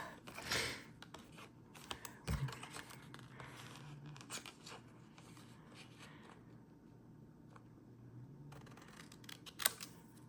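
Christmas card paper cut by hand with scissors: faint, sparse snips and rustles in a quiet room, with a couple of sharper clicks standing out.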